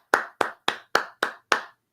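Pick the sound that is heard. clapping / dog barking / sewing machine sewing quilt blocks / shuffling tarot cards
clapping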